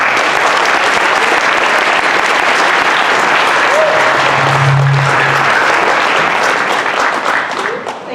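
A school audience gives steady, dense applause welcoming a speaker at a talk event, a full crowd clapping continuously before it tapers off at the end, with brief voices mixed in.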